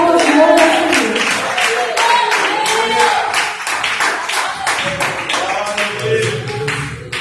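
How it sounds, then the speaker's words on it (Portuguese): A church congregation claps in a fast, steady rhythm of sharp, close strikes that runs the whole time, with a murmur of voices underneath. "as palmas de honra ao Senhor"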